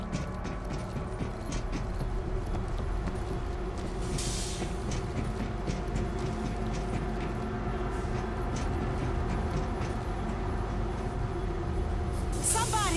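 Train in the zombie shooter World War Z, a steady low rumble and rolling rail noise running throughout, with brief bursts of clatter and a rising mechanical sweep near the end; moderately loud, with faint game speech.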